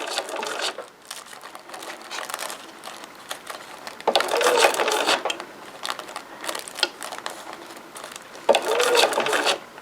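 A sewing machine stitches tissue paper into ruffles, running in bursts of rapid mechanical whirring with pauses between them, louder at the start of each run.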